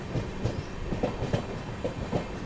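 Netaji Express passenger train rolling through the Kanpur Central goods yard, with steady rhythmic clickety-clack of wheels over rail joints and a continuous rumbling hum, heard from inside the moving train with no talk.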